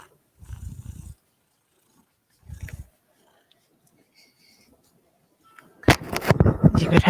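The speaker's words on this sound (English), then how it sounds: "I don't know if you can hear this kitty purring or not." A cat purrs close by in two short rumbling bursts separated by quiet, followed by louder rustling and movement noise.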